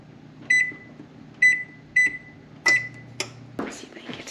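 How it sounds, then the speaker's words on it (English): An oven control panel gives four short electronic beeps at uneven intervals while being set to preheat, followed by a few soft button clicks and a low hum in a quiet kitchen. "we need to preheat the oven to 375"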